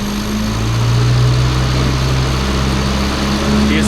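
A Mini's 998cc engine held at about 1500 RPM, a steady, loud, continuous drone with a low hum and no talking.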